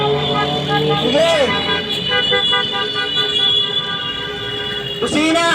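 Car horns honk repeatedly in a street protest against corruption, several loud toots with sustained blasts near the start and end over traffic rumble, while people talk and shout throughout.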